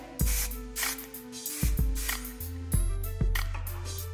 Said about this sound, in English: I'm going to spray some air control hairspray